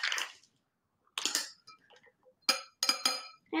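Ice rattles inside a cocktail shaker in short bursts of clinking shakes, separated by brief pauses, close and fairly quiet, with no speech.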